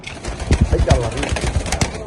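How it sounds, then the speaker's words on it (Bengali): Bokhara pigeons at a pigeon farm coo and flutter close by in short, busy bursts, with some handling and movement noise mixed in. "দেখেন কি পরিমাণ সুস্থ ফিট কবুতর"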